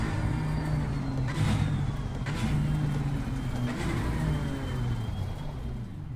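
BMW M4 GT4 race car engine in Assetto Corsa Competizione, steady loud engine drone with brief bursts and pitch drops suggesting downshifts, continuous throughout with no talk.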